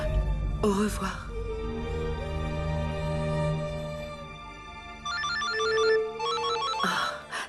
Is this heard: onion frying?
no